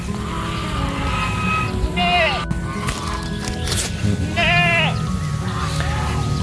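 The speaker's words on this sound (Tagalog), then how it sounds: "Ating mga kambing." Goats on a farm bleat twice, loud and close, wavering cries spaced a couple of seconds apart over a busy outdoor background with some mechanical noise.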